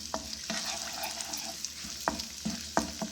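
Crushed ginger, garlic and white cumin fry in a pan with a steady sizzle, broken by several sharp scraping stirs of a spoon. The stirs come in short bursts that are loud and close.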